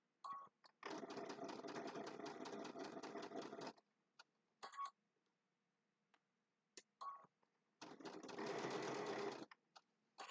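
A domestic sewing machine stitches a Christmas table runner in two close, steady bursts of rapid mechanical whirring, separated by quiet pauses with small clicks and fabric handling.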